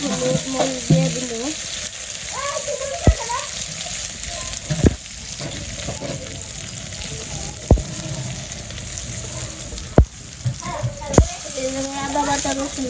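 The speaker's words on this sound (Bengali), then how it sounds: "তোমার পেঁয়াজটা ভাজা হয়ে গেছে, লবণ হলুদ মরিচ দিয়ে দিল।" Fried onions with salt, turmeric and chili crackle and sizzle in a pan, with occasional sharp clinks of a stirring utensil and a voice talking over the cooking.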